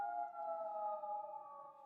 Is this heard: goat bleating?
no